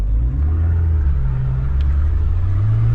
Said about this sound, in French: donc là on est enlisé, on va se servir du deuxième levier de vitesse pour envoyer du steak